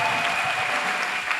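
A church congregation at a golden jubilee celebration applauds together, a dense and sustained wash of clapping that fills the room, loud and close, with no speech over it.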